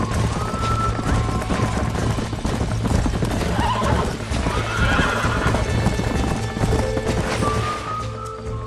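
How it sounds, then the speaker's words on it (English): Horses in the Western video game Red Dead Redemption neigh and whinny while hooves clip-clop steadily and loudly nearby, over a constant busy background. "These are fine horses."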